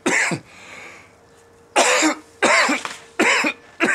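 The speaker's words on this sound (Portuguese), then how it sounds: "A tosse ainda não acabou." A person coughs in several loud, close bursts, one sharp cough followed after a pause by three more heavy coughing fits, with quiet room tone in between.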